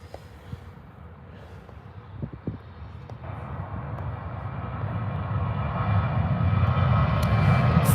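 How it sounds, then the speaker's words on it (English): A Ryanair Boeing 737 jet flies at Birmingham airport in fog, its engine roar building steadily from a distant rumble to a louder, fuller drone as it approaches. "It's Ryanair 737."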